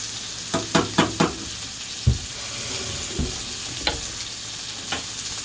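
Mushrooms sizzling in a hot frying pan, a soft steady crackle with several sharp clacks of a utensil stirring and scraping, fairly quiet and close.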